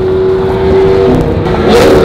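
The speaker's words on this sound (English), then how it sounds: "Those Aventadors sound fucking insane, man." A Lamborghini Aventador engine revs loud and close in a sustained steady drone, rising in pitch near the end, with no talking.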